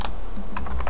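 Quick clicking keystrokes on a computer keyboard as a terminal command is typed into a Linux shell while setting up Apache2 virtual hosts, a short burst of close, crisp taps with a few spaced clicks.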